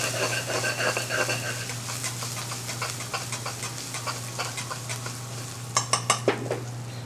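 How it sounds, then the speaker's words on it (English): Ginger and garlic fry and caramelize in a pan with a constant close sizzle over a low steady hum, scraped by a stirring utensil, then a quick run of sharp metallic clanks near the end. "The ginger and garlic is caramelizing beautifully."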